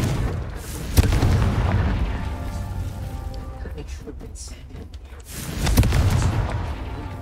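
Confringo blasting-curse explosions in Hogwarts Legacy: deep booming blasts with rumbling, crackling tails, one near the start and another near the end, under a player's excited talk.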